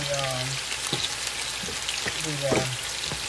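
Potatoes cooking in oil in a skillet, a steady close sizzle with light stirring scrapes and a couple of brief tonal clinks, with no talking.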